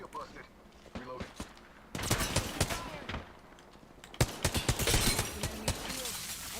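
Bursts of automatic gunfire crackle in Apex Legends during a ranked match, rapid volleys near and far in clustered runs, with game voice lines over the shooting.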